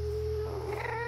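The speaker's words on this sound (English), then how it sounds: "I hear a cat!" A cat meowing in Minecraft, a single drawn-out, rising and falling meow, clear and fairly close over a low background hum.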